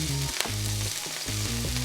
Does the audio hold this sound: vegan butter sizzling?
yes